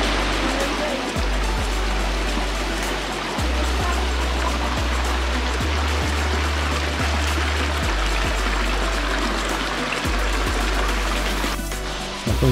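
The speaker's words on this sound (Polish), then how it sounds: "W końcu lewady Risco dochodzi się do spektakularnego wodospadu" A waterfall at the end of Levada do Risco on Madeira, a constant loud rushing roar of falling water filling the whole scene, with brief low thumps now and then.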